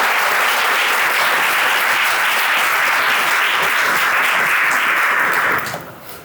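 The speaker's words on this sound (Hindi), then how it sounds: "सबसे पहले तो सर के लिए जोरदार तालियां बजाइए" A large audience gives loud, dense, sustained applause that stays full for several seconds and then quickly dies away, with no talk over it.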